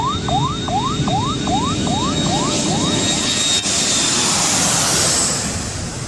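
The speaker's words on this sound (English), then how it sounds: "Planes are landing and taking off left and right" Jet airliners roar steadily near a busy runway as planes land and take off, a loud sustained engine wash with a repeating descending whine and a swelling rush toward the end.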